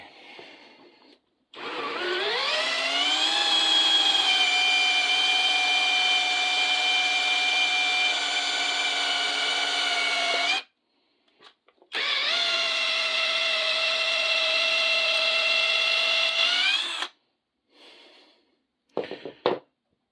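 Power drill boring into PVC pipe with cheap AliExpress drill bits, two long steady high whines of about nine and five seconds, rising as the motor spins up, loud and close, with short pauses and rattles between.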